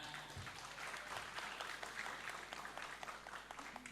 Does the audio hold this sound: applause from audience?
yes